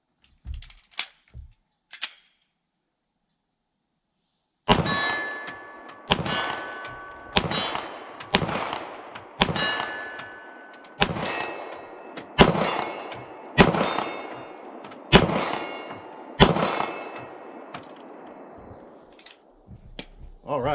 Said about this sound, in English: let's put some rounds on that 25-yard plate and see what we can do at 40